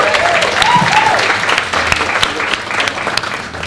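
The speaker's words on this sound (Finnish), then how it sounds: "annetaan vielä aplodit" An indoor audience claps in a dense, sustained round of applause, close and lively, with a few faint voices and whoops mixed in.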